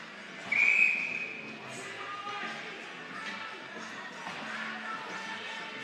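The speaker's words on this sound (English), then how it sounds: "then a whistle is sounded" A referee's whistle blows once, sharp and shrill, at a high school ice hockey game between the Hermits and St. Peter's Prep, ringing over steady arena crowd noise.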